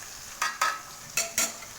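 Ground pepper and dried shrimp are stir-fried over low heat in a pan, with four short scraping sizzles as the spatula stirs, each burst a quick rasp over a quiet background hiss.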